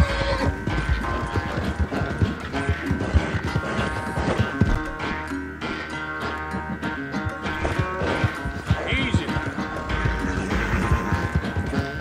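A horse gallops in Red Dead Redemption 2, with fast, steady hoofbeats pounding along under a dense, busy wash of game sound for the whole stretch, and no clear talk.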